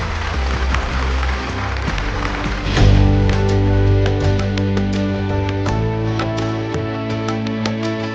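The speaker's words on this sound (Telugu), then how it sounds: "గట్టిగా చప్పట్లతో స్టేజ్ మీదకి సాదరంగా ఇన్వైట్ చేసేద్దాం." An audience at a women's engineering college awards event claps to welcome a performer onto the stage, dense applause swelling loudly and then continuing under musical tones that ring out alongside it.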